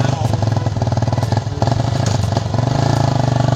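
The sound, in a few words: motorcycle engine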